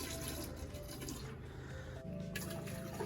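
Antifreeze being poured into an RV sink drain during winterizing, a steady continuous liquid trickle and splash with a faint tonal hum underneath, close and moderately loud, with no talking.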